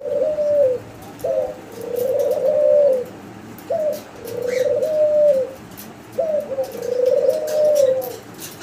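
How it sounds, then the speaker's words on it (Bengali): Pigeons kept for sale coo up close in a steady, repeating rhythm, about four drawn-out cooing phrases separated by short pauses, loud and clear with no speech. "ঘুঘু পাখি ডাক দেখাইলাম আপনাদের দর্শক।"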